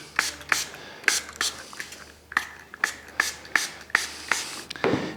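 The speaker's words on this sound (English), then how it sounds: "Famous spray goes in there." Disinfectant is sprayed inside a golf shoe with a synthetic lining, in a series of short, sharp, close hissing bursts at a fairly regular pace.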